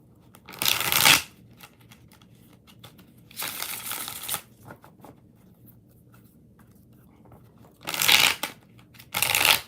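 Tarot cards being shuffled in four separate bursts of riffling, each about half a second to a second long, with quiet gaps between them; close and fairly loud, no talking.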